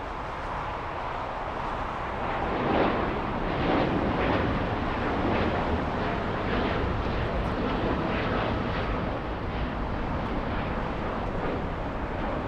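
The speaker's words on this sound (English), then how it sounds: "there goes the 787 Dreamliner flying to Osaka" A Boeing 787 Dreamliner takes off from LAX bound for Osaka, a broad, steady jet roar heard from a distance with wind buffeting the microphone.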